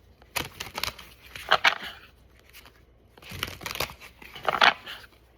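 Tarot cards being shuffled by hand, giving two bursts of papery riffling and crackling with a quiet pause between them, close up and with no talking.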